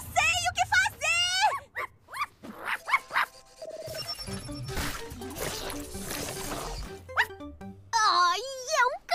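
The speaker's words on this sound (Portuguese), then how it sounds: "Ai, é um cão bonzinho!" A friendly cartoon dog from the Brazilian kids' show Friendzspace whimpers with high, rising whines at the start and end, and barks in between, mixed with excited cartoon voices and effects.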